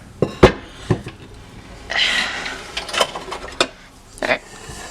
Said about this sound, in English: We're gonna take the paddle hook off, take the bowl out, push this over.